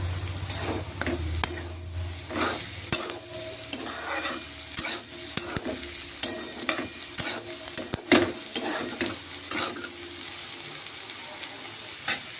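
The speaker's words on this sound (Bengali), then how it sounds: "আলু আর উচ্ছে ভাজা বসিয়েছি।" Potato and bitter gourd slices fry in a pan with a continuous sizzle, punctuated by a dozen sharp, regular clacks of a spatula stirring against the metal, close and clear without speech.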